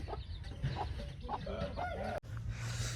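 Desi fighting rooster and chickens in a farmyard, steady clucking and short calls close by over a constant low background hum.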